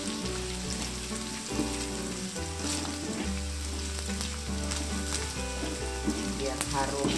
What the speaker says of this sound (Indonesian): Aduk-aduk terus.